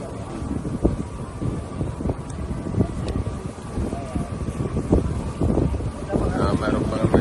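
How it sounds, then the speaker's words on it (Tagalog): Steady gusting wind buffeting a small boat on a fairly calm sea on the way to Corregidor from Bataan, a continuous rumbling roar with bumps and knocks throughout. "Ang dagat ay medyo tahimik naman, subalit medyo mahangin nga lang."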